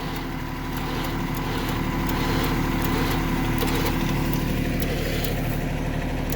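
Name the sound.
Traveller 9000lb winch on Kubota LX2610 tractor pulling boulders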